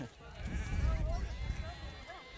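A sheep bleats a few times, wavering calls over low rumbling handling noise and laughter nearby during an ice storm.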